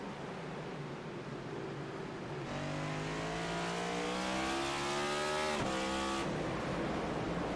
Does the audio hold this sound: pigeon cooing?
no